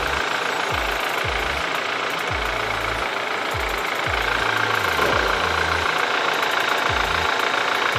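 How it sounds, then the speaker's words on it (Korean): BMW 320i F30 engine idling with the hood open in the engine bay, a steady even hum with a faint rhythmic ticking pulse running throughout, close and alone. "엔진 소리 일정하고 좋습니다"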